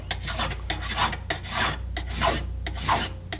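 A file rasping across a burr on a damaged chainsaw bar, close and fairly quiet, with about six rhythmic back-and-forth strokes that catch and grab at the edge over a low steady hum.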